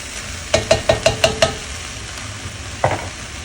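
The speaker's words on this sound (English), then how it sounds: "going to add 2 tablespoons of minced garlic to this mixture, right in the middle. Just allow it to cook down." Softened vegetables and minced garlic for Filipino fresh spring rolls sauté in a pan, producing a steady sizzle with six quick, evenly spaced clanks from a spatula and one more a moment later, without talking.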